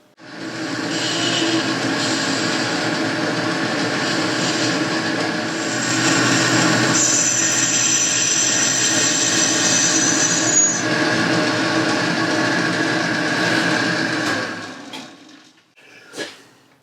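Lathe boring a 15.5mm hole about 5mm deep into a metal bush, a continuous close squealing, whining cut with a high tonal ring that rises midway, then stops abruptly with a few knocks.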